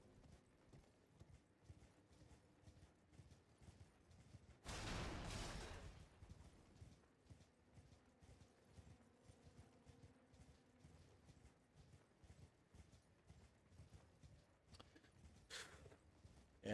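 Horse hooves in Elden Ring clop in a steady quick rhythm, faint and even throughout, with one brief loud burst of noise partway through and a short crack near the end.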